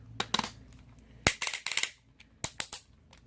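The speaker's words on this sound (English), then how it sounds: "Sorry if the clicking's loud, it just happens to do that." Plastic joints of a 2017 Legendary Voltron combiner toy click and snap as its legs are moved, a scatter of sharp, close clicks coming in short bursts with quiet gaps between them.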